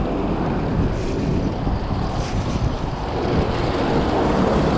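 Steady wind rushes over an open microphone during a bike ride on the Laguna Loop, a constant broad roar with low buffeting gusts, loud and continuous throughout.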